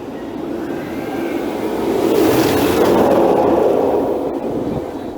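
An Alpen Fury roller coaster train roars past at full speed during test runs, the rushing whoosh swelling to a peak mid-way and then fading, loud and close.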